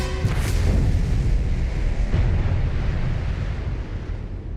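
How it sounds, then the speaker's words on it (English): Small gunfire aimed at drifting naval mines at sea, heard as a continuous heavy rumbling boom with a couple of dull blasts rising out of it, loud and wind-buffeted throughout. "you try and sink them with small gunfire at a safe distance"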